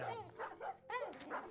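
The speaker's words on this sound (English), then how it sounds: "The dogs wouldn't stop barking." Several dogs bark agitatedly at night in a rapid run of close, harsh barks. One higher yip cuts in among them, with faint voices underneath.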